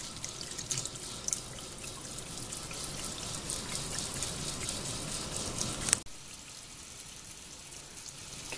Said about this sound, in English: greens are cleaned and rinsed, and getting ready to go on the stove for their first boil